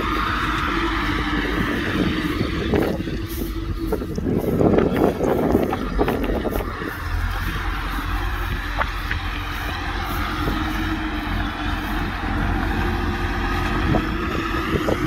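A tractor-drawn straw baler working a field in Buriram, Thailand: a steady low engine drone with mechanical clatter and a louder rattling burst partway through, plus wind buffeting the microphone.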